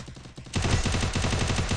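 Rapid bursts of automatic gunfire from a video game rattle out in a fast, loud string after a brief quieter lead-in.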